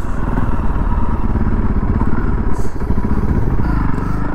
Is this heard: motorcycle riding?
yes